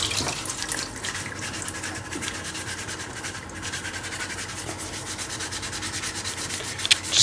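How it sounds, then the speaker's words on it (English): A fresh, clean sponge scrubs a raw carrot in steady back-and-forth rubbing strokes, close and continuous, with a faint watery wash beneath. "I'm going to scrub it with a fresh, clean sponge"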